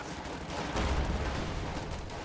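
An MG42 machine gun fires in Company of Heroes 2, a dense continuous burst of rapid gunfire with heavy low rumble, loud and sustained for about two seconds without any talking.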